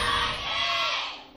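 Loud esports arena crowd at a League of Legends LCK Spring 2016 match roars and cheers for ROX Tigers, a dense, sustained wall of shouting voices that fades slightly toward the end.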